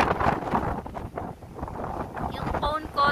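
Strong wind buffets a handheld phone microphone at a scenic spot in Tagaytay, a loud, gusty roar that surges and dips under a voice.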